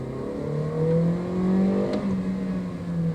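A Toyota Innova HyCross engine revs hard under heavy acceleration, a loud, strained drone that rises and holds steady for several seconds inside the cabin, with no talk.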